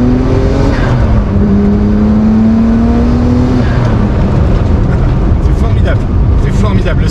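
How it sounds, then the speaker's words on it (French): A Nissan R32 GT-R's six-cylinder engine drones loudly and steadily up close, its pitch climbing and then settling as it pulls, with a dense, rough mechanical roar throughout and no pause. "le 6 cylindres c'est incroyable"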